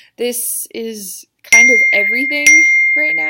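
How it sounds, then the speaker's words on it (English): A mobile phone notification rings out in two bright, sustained bell-like chimes that cut through and linger under a person's ongoing speech, close and fairly loud. "I am so sorry about my phone going off."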